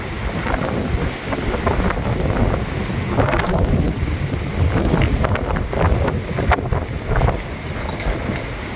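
Strong storm wind in Spain roars and buffets the microphone continuously, with gusty rushing noise and scattered rattles of debris; no talking.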